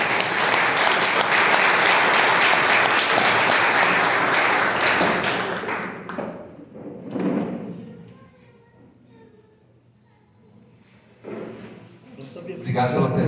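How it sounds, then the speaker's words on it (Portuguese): A church congregation applauds a priest at an ordination service: dense, loud clapping for about five seconds that fades out, then a few scattered claps and a brief renewed burst, with voices speaking in between. "Padre José, uma salva de palmas"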